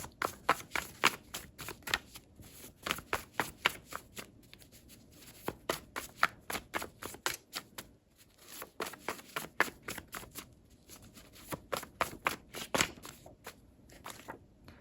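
Tarot cards being shuffled by hand, crisp riffling flutters and soft slaps in quick bursts with brief pauses, close and clear, no talking.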